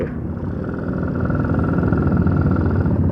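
A motorcycle engine, on a bike about 40 years old, runs with a steady mid-pitched drone that swells slightly in loudness, close by and with no talking.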